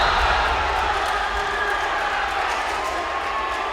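Crowd noise from a boys' high school basketball game, a steady broadband roar of spectators rising in excitement with cheering and a few shouts, loud and sustained throughout.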